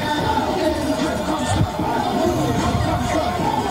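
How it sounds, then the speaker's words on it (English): A college football crowd at Ohio Northern at Wilmington roars steadily, a dense wash of cheering and babble with a brief swell near the middle and mixed voices throughout. "All right, woke up the crowd."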